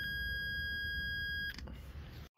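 Multimeter in continuity mode emitting a steady high-pitched electronic beep while its probes touch a car heater blower motor's pins, the tone holding about a second and a half before cutting off amid handling noise.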